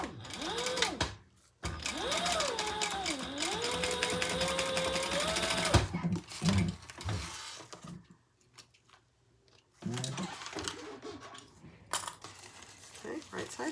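A sewing machine runs in a steady burst, top stitching a small fabric traveler pouch, then stops for pauses filled with soft handling clicks before a shorter final run.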